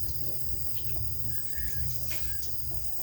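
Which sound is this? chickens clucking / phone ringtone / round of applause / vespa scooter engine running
chickens clucking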